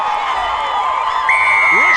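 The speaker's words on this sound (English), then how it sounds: "the crowd's going wild" A stadium crowd cheers at a women's rugby sevens match in Atlanta, a steady roar of voices and whoops rising slightly toward the end, with a commentator's voice over it.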